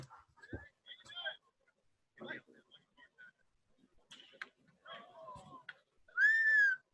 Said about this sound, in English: Ow, God, that whistle